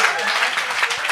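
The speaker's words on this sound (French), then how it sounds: "on les applaudit encore plus fort" A live comedy-show audience claps steadily through a short stretch, a dense crackle of many hands with no gaps, fairly close and even in loudness.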